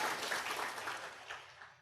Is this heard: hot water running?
no